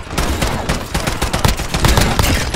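Dense, rapid gunfire from dual akimbo weapons in a Call of Duty 2019 match on the small Shipment map, a loud continuous burst of overlapping shots with no pauses.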